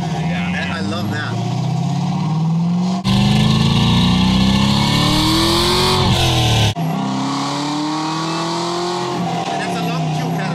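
A loud car engine revs repeatedly through a deep 3-inch exhaust with race mufflers and long-tube headers, pitch climbing with each pull, with voices talking over it.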